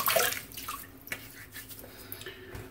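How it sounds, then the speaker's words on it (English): Water splashes faintly as a face is wetted at a sink before shaving: a brief splash at the start, then scattered soft drips and trickles, quiet and close, with no speech. "I'm gonna go ahead and put this on my face, just gonna wet my face a little bit."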